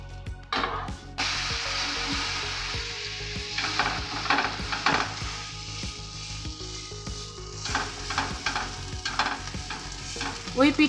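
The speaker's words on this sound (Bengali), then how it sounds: "ওই পিঠটা খুব ভালো করে ভাজা হয়ে গেছে" A bread roll fries in a pan with sauce and black pepper, a continuous close sizzle broken by frequent scraping and stirring clicks of a utensil, with no talking.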